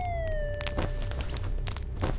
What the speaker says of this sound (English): You got a police siren attached to you?